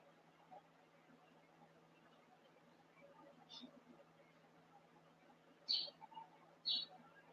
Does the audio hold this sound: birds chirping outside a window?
yes